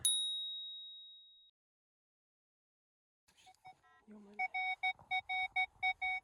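A metal detector sweeping over a buried coin during a treasure hunt in Chernivtsi region, Ukraine, gives a clear ding, then repeated bright beeping tones in a steady rhythm, loud and close.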